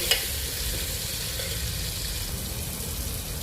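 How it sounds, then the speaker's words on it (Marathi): Curry leaves, onion and cumin sizzling in a hot oil tempering, a steady, dense, close frying hiss throughout with a faint clink at the start. "फोडणीमध्ये मी टाकला आहे कढीपत्ता, कांदा आणि जिरे."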